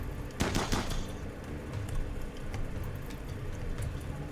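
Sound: gunfire in the video game RimWorld

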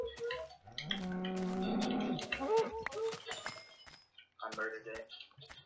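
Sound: cow mooing in the video game Minecraft

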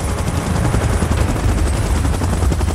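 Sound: helicopter in PUBG Mobile video game

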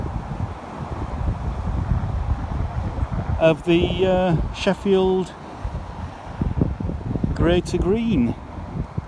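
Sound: strong gust of wind outdoors

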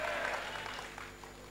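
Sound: church congregation applauding

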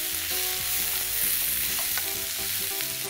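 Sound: beans being browned in a pan

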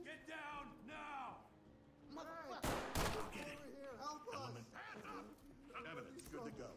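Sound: video game gunfire, Ready or Not

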